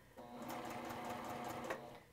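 A sewing machine stitches a quilt seam, a fast, even mechanical whirr of the running needle lasting about two seconds at close range.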